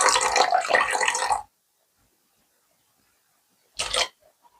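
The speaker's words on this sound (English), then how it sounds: "I'm now going to add 50 grams of water to bring it up to the same weight as the eggs" Water poured from a container into milk for Yorkshire pudding batter, a steady splashing pour of about a second and a half, then a short second splash after a pause, close and clear with no talking.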